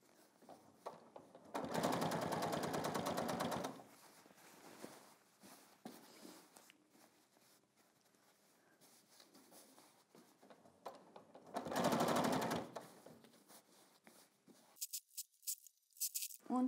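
A sewing machine attaches a collar to a blouse in two short, loud whirring runs, with quiet fabric handling and small clicks between and after them.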